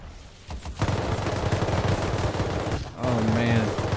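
Rapid automatic gunfire from the game Rust rattles in a dense, loud burst, briefly pausing before resuming, with a voice speaking near the end.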